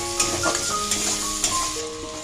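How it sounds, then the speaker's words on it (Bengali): Chopped onion sizzles in hot oil for a Bengali-style katla carp curry, a close, continuous crackle with faint stirring taps and no talking. "এই যে কুচনো পেঁয়াজটা তেলের মধ্যে দিয়ে দেবো এটা হালকা বাদামি কালার এলে"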